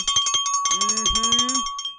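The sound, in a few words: bell rung to welcome new member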